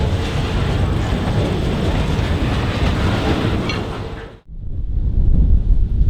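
A CN freight train rolls along a rural branch line, a loud continuous rumble with rhythmic wheel clatter close by, cut briefly by a sudden dip before the heavy rolling noise returns.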